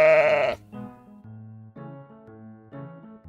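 A sheep gives one loud, wavering bleat for about half a second. Soft, low tonal sounds follow, rising and falling for the rest of the clip.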